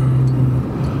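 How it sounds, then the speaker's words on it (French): A car rolls along with a steady low engine hum and road rumble heard from inside, a short, even drone with no voices. "Et puis, nous avons repris la voiture"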